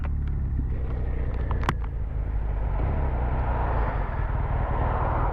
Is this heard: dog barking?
no